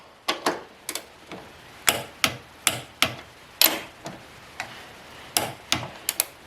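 A torque wrench tightens the front strut nuts on a Hyundai Sonata, giving a series of crisp, close clicks in small irregular bursts over a quiet background.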